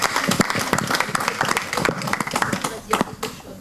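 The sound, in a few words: audience applause after an interview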